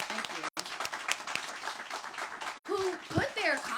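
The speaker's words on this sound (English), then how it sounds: "Give them a round of applause, please." Dense, steady applause from the audience at a Shadowbrook groundbreaking ceremony, broken by a brief pause and then continuing, with a voice speaking over the clapping near the end.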